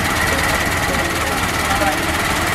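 A 1926 Ford Model T engine, started by hand crank, runs at a steady idle with a dense, rattling mechanical chug close to the microphone.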